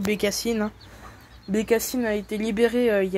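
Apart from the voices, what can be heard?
No distinct noise like a dog, phone or traffic.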